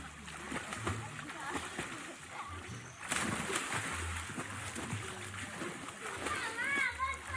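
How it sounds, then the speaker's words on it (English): Water splashing and sloshing as people swim and wash in a river, the bursts scattered and fairly close, with children's voices and chatter mixed throughout. "They swim and wash in it."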